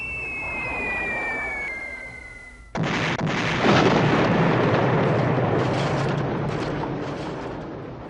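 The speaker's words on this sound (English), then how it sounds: "The 306th drop their bombs" A board game sound effect of B-17 bombs falling: a descending whistle drops for a few seconds, then a loud explosion bursts and rumbles on with crackling debris to the end.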